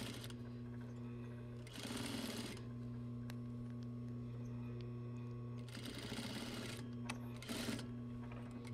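Sewing machine stitching a zipper during basic apparel construction, starting with a back tack: a steady motor hum runs throughout, with two loud bursts of rapid stitching near and alone.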